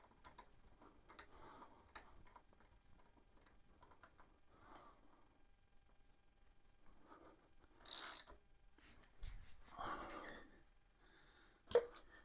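A ratchet wrench tightens the front wheel pivot bolt on a 2002 Honda GL1800 Goldwing, faint scattered clicks and metallic taps in a quiet space, with a few sharper knocks near the end.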